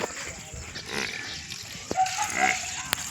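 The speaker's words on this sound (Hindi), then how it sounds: "अमारी गाय एक भैंस तो यहाँ बांधेली है" Cow and buffalo tethered at a farm home, with a few low moos and animal calls over steady rural background noise and a couple of sharp knocks, no speech.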